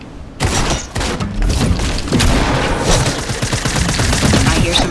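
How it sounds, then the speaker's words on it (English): Pump shotguns fire repeatedly in a Fortnite battle royale match, a dense, loud barrage of booming blasts and thuds that keeps going without a break, with mechanical clatter mixed in. "I hear some pump shotguns going off."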